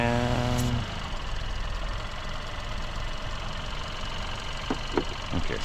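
A GDI car engine idles with a steady low rumble and faint ticking, heard close; a brief tonal whine fades early and a few clicks and handling noises sound near the end.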